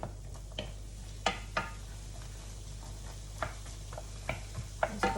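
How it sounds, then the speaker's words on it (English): Canned black beans and corn being stirred in a pan, with a handful of scattered spoon scrapes and light taps over a low, steady hum. "So a can of black beans. Give them a stir."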